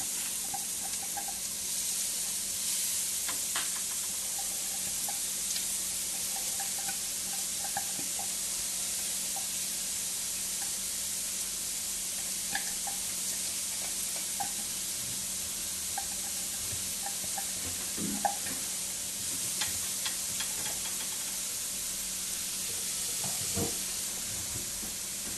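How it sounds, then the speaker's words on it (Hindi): A beetroot and carrot mixture sizzles steadily in a pan, a constant soft hiss with occasional small pops and stirring scrapes, heard alone at moderate level. "इस समय मैंने डाल दिया है बीटरूट और कैरेट का मिक्सचर"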